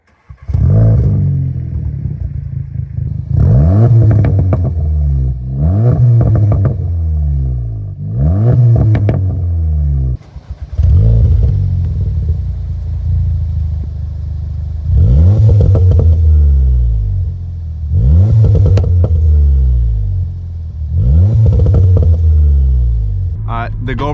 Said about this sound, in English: let's hear him rev a little bit.